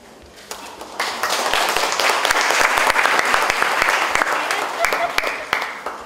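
A crowd at an education office visit in Gresik claps for a student, a dense burst of applause that swells, holds for several seconds with sharp individual claps, then tapers off.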